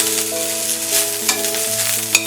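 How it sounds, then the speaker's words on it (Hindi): Curry leaves fry in a pan with steady crackling sizzle and a few sharp pops, close and moderately loud, with faint stirring and no speech. "करी लीव्स फ्राई हो गया है।"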